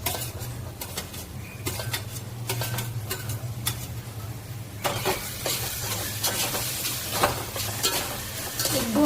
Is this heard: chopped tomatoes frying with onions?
yes